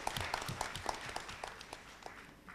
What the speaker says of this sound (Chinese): 都请让我们用热烈的掌声向双方辩手致敬